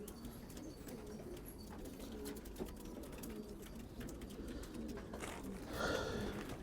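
Racing pigeons in a Syrian breeder's loft coo softly at a distance, steady low murmuring with a brief louder flutter near the end, and no speech.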